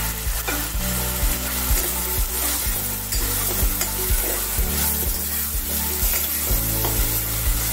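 Curry leaves crackle and sizzle loudly in hot oil for a fish and raw mango curry, a dense continuous frying hiss with steady pops and stirring, no voices.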